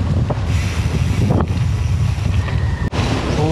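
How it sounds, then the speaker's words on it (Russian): Strong wind blows across Siquijor island and buffets the microphone with a steady roar, broken by a few sharp gusts and thumps. "Ветер такой сильный поднялся."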